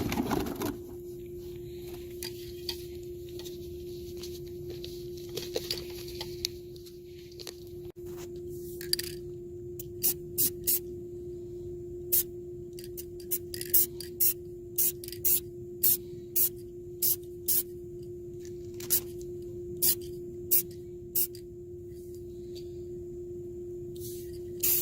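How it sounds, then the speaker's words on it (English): Krylon automotive spray paint hisses onto a Chevy Silverado truck bumper in a long run of short, evenly spaced bursts, close and crisp over a faint steady hum. "She got me some automotive, what is it, Krylon, whatever that is. And I'm gonna go ahead and start painting this up."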